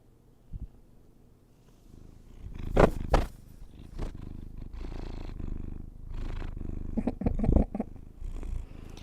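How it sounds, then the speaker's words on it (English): A house cat purrs loudly and close by in a steady rumbling rhythm, with a few louder rustling bursts from handling or movement breaking in along the way. "She purrs all the time. And she's a loud purrer."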